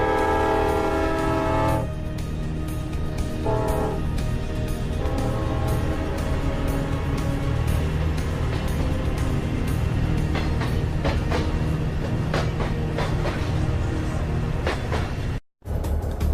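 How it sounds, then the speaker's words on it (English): SD40 diesel freight locomotive, a decades-old North American road engine, rumbling steadily with a sustained horn blast in the opening seconds, followed by continuous rail clatter and wheel noise, loud and close with a brief dropout near the end. "This SD40 locomotive has hauled freight across North America's heartland for over 40 years."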